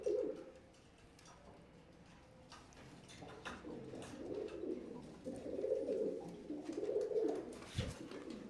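Imported Teddy pigeons in a breeder loft coo steadily in low, rolling phrases, several birds overlapping at close range, with light rustling from the birds.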